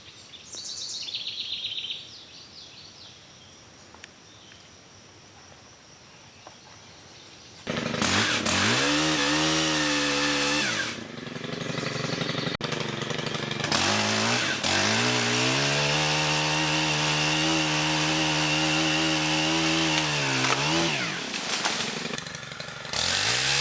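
Chainsaw trimming small limbs while clearing around a deer stand, starting abruptly after a quiet stretch with faint birdsong, then revving loud and close through several cuts with brief dips between them.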